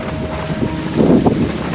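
Steady wind rushing by the sea at a seaside fish pond, a broad blustery roar with a gust swelling toward the end.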